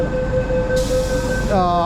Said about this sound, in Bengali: এই হচ্ছে মেট্রো, ভুরভুর করে চলে গেল।